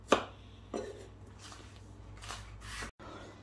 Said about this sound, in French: Allez, je coupe tout ça